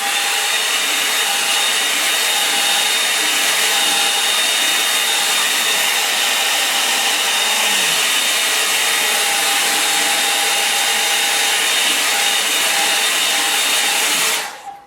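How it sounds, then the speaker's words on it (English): Hair dryer blowing continuously on something damp outdoors on a moor, a loud steady roaring whoosh with a constant whine that runs almost fifteen seconds before cutting off abruptly at the end. "it's a little bit wet at the moment, so let's just dry that off a bit"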